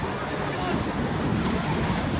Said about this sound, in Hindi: तो ये है आप लोगों ने वेव्स की आवाज़ सुनी है